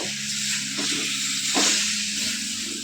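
Green chilies and spices sizzle steadily in a pan for a bottle gourd dish, a bright constant hiss with a couple of stirring scrapes, while a low hum runs underneath.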